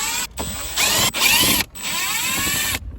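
A power screwdriver backing screws out of the console of a 2024 Toyota Tacoma, several close whirring runs of the motor separated by short pauses, with the pitch sweeping as the load changes, and no talking.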